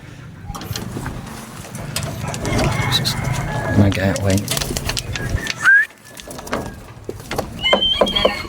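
Pigeons coo and flutter at close range in a loft as young birds are gathered up, with handling noises, a sharp call near the end and people talking throughout.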